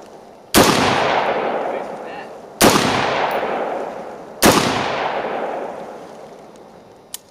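Three loud, sharp rifle shots from an M4 fitted with a flashlight, spaced about two seconds apart, each followed by a long echoing decay across an outdoor range.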